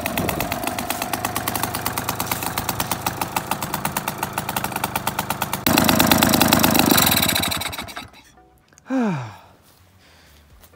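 Solex moped engine running nearby with a loud, steady, rhythmic chugging putter that roughens, then cuts out after about eight seconds, followed by a brief breathy sigh-like sound.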